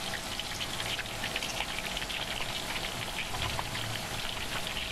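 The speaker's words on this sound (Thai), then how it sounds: "ให้น้ำมันร้อนก่อนแล้วก็นำกล้วยลงทอดได้เลยค่ะ" Banana slices fry in about two litres of hot oil over medium heat in a wok, giving a steady, dense crackling sizzle that holds evenly close by throughout, with no talk over it.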